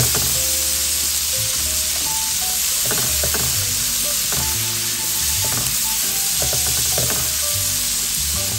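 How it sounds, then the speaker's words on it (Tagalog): Onions sauté in a pan with a loud, steady sizzle up close, while a utensil stirs and scrapes intermittently throughout. "Isasatay lang natin hanggang mag-translucent"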